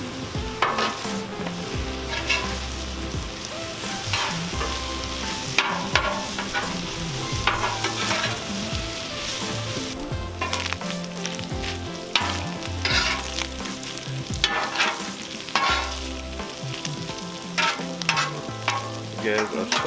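Sausage and potatoes fry on a Cuisinart 360 griddle with a steady, dense sizzle throughout, broken by repeated scraping and stirring taps of a spatula against the flat top, close and fairly loud with no talking.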